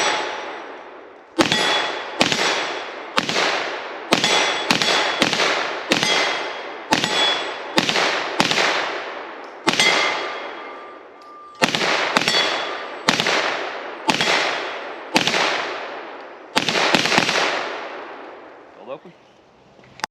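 A Beretta PMX-S pistol fires at steel targets on a range, each loud shot followed by a ringing metallic clang, in a rapid, slightly uneven string of about a dozen and a half rounds.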